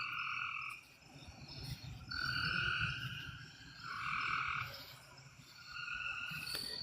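Chorus of frogs or crickets calling outdoors at night, steady pulsing trills rising and falling in waves, moderately distant and continuous with no talk.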